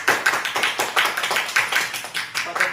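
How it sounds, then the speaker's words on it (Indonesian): Clapping from a small group at a community parenting session, a rhythmic run of distinct claps in a steady beat, fairly close and clear with no talk over it. "berikan tepuk tangan untuk kita semuanya"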